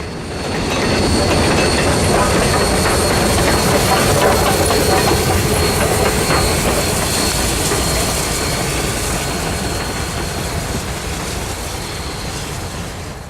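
GSMR 1702 locomotive hauling coaches, a conductor's cafe car and a caboose rolls past at close range, a loud steady rumble with clickety-clack wheel beats and faint wheel squeal sustained throughout.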